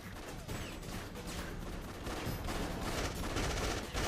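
Rapid gunfire from the video game Afterfall Insanity, a dense continuous burst of shots that rattles steadily throughout, loud and close with no pauses.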